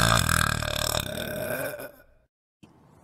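A cartoon female character lets out a long, loud, croaking burp lasting about two seconds that fades out, followed by a short pause and a brief quieter sound.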